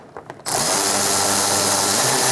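After a few faint clicks, a power tool whirs up abruptly and runs steadily close by, driving the cooling fan assembly bolts on a 2014-2019 Kia Soul 1.6L.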